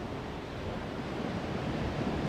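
Steady wind rushes outdoors, a broad, even roar buffeting the microphone with no voices.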